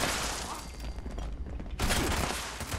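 Automatic gunfire from a handmade rifle with an explosive effect in Fallout 76, loud dense bursts of rapid shots filling the clip, with a brief lull in the middle before another heavy barrage.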